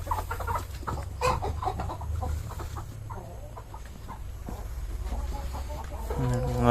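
Several Rhode Island chickens cluck and call nearby on a farm over a constant low hum, with faint voices in the background and a louder bird call near the end.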